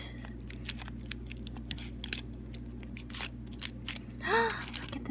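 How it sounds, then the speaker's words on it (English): Foil wrapper of a 50th anniversary Kinder Surprise egg from Iceland being torn open up close, a series of short crinkly rips and rustles with a brief voice near the end. "So, and I'm ripping it"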